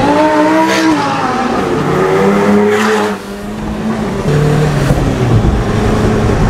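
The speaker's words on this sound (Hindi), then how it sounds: "कैसे ऑडी अरे अल्ट्रा लाउड है ना, स्पोर्ट मोड ऑन है आपला।" Audi supercar in sport mode revving its engine very loudly, with rising and falling revs in repeated pulls, a brief dip in volume midway, then more aggressive revving close by.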